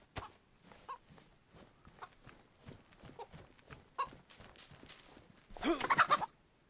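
Chicken clucking in the DayZ game, a short cluster of bright, close squawks near the end after quieter footsteps and scattered game noises.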